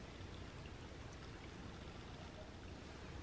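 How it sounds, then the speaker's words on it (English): Water pouring steadily over a lake spillway at Cedar Lake, a constant dense rushing wash with no voices. "It's like a nice little spillway here. A lot of water flowing."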